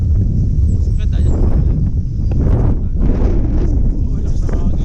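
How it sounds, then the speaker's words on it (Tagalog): Strong wind buffets the microphone outdoors near a forest, a loud continuous low roar that gusts and swells throughout while people talk over it. "lakas ng hangin"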